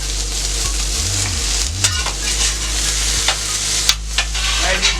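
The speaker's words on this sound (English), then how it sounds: "I'm going to flip my potatoes over here" Potatoes sizzle in a pan as they get flipped to brown on all sides. A steady frying hiss runs throughout with a few scrapes and taps from the turning, and a low hum sits underneath.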